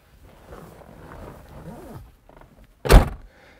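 A Microcar M.GO microcar's door is handled, a faint low rustle followed by a single sharp thunk of the door, close and clear, with no voices.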